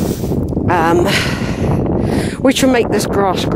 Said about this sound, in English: I know it's windy now, but very windy.